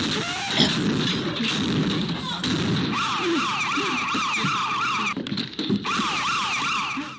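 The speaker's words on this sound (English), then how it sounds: "That siren you hear in the background is a panic alarm" A wailing panic alarm siren rises and falls repeatedly in the background, under bursts of rumbling noise and brief voices.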